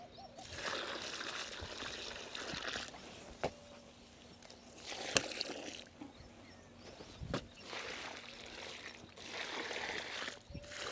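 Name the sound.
jaggery water and cow urine poured onto manure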